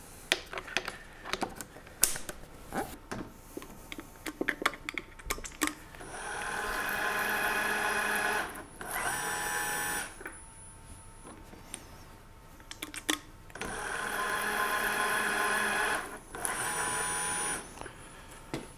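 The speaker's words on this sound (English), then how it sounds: "Spiral point tap should go in, and I've got it set to go a ½ inch deep." A cheap tapping arm runs a spiral point tap into drilled holes a half inch deep, giving two sustained motor whirs between bursts of close clicks and mechanical clatter, with no talk.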